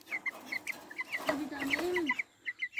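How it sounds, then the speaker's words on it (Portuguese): A hungry baby chick cheeps in short, high repeated peeps, fairly close, with a soft low voice briefly murmuring underneath in a quiet rural setting. "O pintinho está aqui. Precisando de comida."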